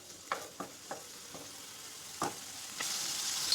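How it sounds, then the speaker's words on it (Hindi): Masala is stirred into a curry in a pan, with a faint sizzle under about half a dozen distinct spoon scrapes spaced irregularly, close by and with no speech. "और इसको अच्छे से मिक्स कर लेंगे।"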